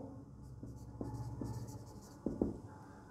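A pen scratches out a definition on paper or a board during a mathematics lecture, soft strokes and taps close by in a quiet room with no talk.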